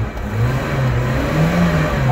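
A 2004 Toyota Zace car engine revs up close, a loud mid-pitched roar that climbs and holds at high speed for a couple of seconds.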